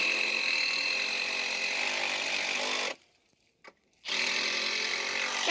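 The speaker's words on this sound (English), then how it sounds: "This is more drilling" A power drill runs during a fence repair, a loud, harsh, continuous whir that cuts out for about a second, gives a brief blip, then starts up again.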